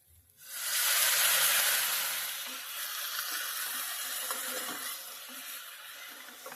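Ginger paste hitting hot oil with turmeric in a pan while cooking Bengali shukto, giving a sudden loud sizzle that slowly settles into a steady, softer frying hiss, close up with no talk.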